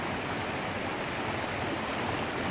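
Loud, constant roar of a fast-flowing river near the Luaha Ndroi waterfall in Alasa, North Nias, a dense unbroken rush with no pauses.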